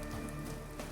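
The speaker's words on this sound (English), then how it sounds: "Oh, here comes the rain." Rain falls in a song, a soft, steady patter of drops on a surface, faint and continuous for a brief moment.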